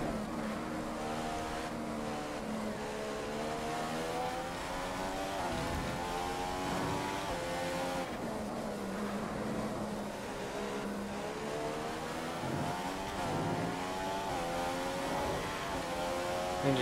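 An F1 race car engine in the video game F1 2015, running rich and slightly warm, screams at a steady high pitch that rises and falls with shifts and throttle. It sustains loud and continuous, with no talking.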